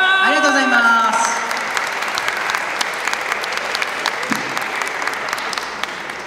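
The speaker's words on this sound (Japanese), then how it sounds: "ガベージのお二人に改めて大きな拍手をお願いいたします。" A crowd at the Okinawa International Carnival claps after a voice on the PA briefly speaks, and the applause then carries on as a dense, sustained patter with sharper individual claps standing out.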